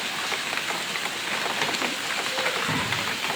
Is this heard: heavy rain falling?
yes